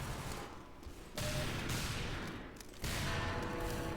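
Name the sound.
gunshots in video game Team Fortress 2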